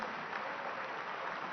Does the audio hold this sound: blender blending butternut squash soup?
no